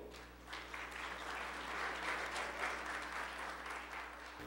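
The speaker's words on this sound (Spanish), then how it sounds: "Recibamos con un fuerte aplauso" Audience applause welcoming engineer Cristian Rojas at a telecommunications technology and regulation talk: a sustained, even wash of clapping from a crowd, steady throughout with no talk over it.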